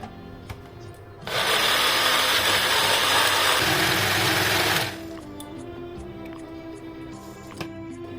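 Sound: mixer grinder jar grinding watermelon pieces

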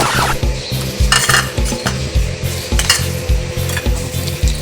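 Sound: stirring salad in a bowl

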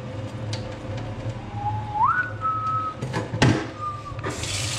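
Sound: whistling Sometimes It Snows in April by Prince

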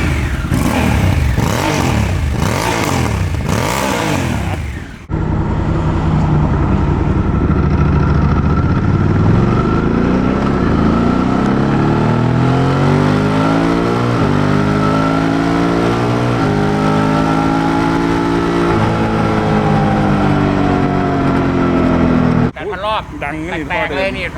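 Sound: Honda Africa Twin 1100 motorcycle engine revving

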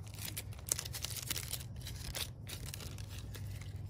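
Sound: chisel cutting a leaking tube on a Heliocol pool solar panel

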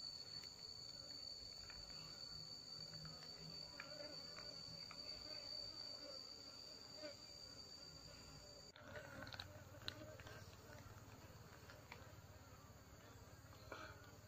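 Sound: honey bee colony buzzing

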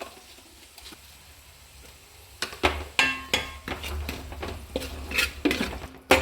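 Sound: mixing turmeric, chili and pickle powder with salt for pickle

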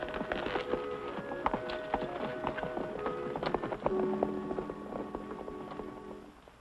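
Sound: horse hooves clip-clopping

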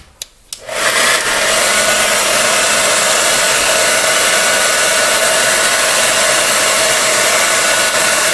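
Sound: heat gun blowing hot air to warm glue

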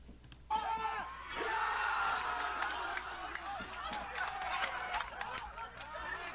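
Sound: amateur football players and fans cheering after a goal

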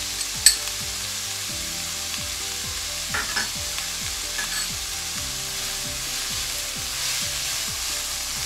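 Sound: chili flakes and garlic frying in a pan over medium heat

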